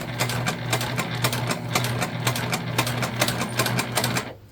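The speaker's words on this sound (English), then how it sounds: "we're going to sew this up" Sewing machine stitching the lining of a pouch made from highland cow print panels, a steady close rhythmic whirr and needle patter running continuously before stopping abruptly at the end.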